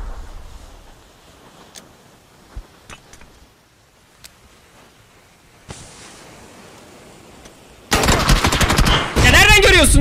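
Bursts of gunfire in a video game shootout during a wingman tournament match. A few faint scattered shots early on, then loud, dense automatic fire erupts near the end and continues to the close.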